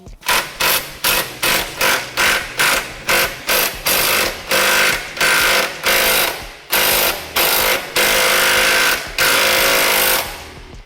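A Snap-on impact gun rattles in short repeated bursts, then a longer run, while installing coilovers on a 1989 Honda CRX track car; loud and close with no talking.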